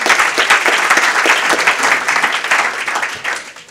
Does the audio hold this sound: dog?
no